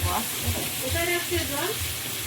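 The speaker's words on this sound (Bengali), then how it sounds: "পুঁটি মাছগুলো আগে ভেজে নেই তারপরে তরকারি" Small puti fish fry in hot oil in a home kitchen, giving a continuous close sizzle and crackle while people talk over it.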